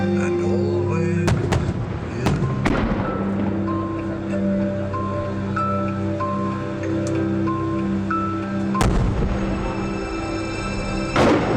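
A fireworks display by Fireworks Extravaganza at a National Fireworks Association event: several sharp booming bursts spread across a dense, roaring backdrop, with crackle between the louder thumps.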